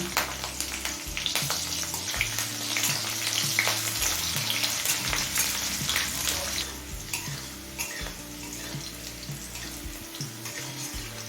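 Green chilies and chopped garlic frying on low flame in a pan with cumin and dried chili, a steady close sizzle broken by scraping stirs, with faint watery sounds mixed in.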